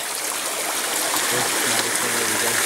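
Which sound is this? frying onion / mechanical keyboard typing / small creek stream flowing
small creek stream flowing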